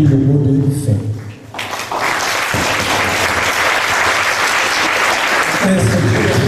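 Following a brief stretch of someone speaking, an audience in a hall at a Bible dedication event breaks into loud, steady applause that carries to the end, with talk resuming faintly at the close.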